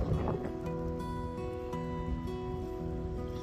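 Wind buffets the microphone with a low, steady rumble outdoors by a reservoir, alongside faint tonal hums in the background.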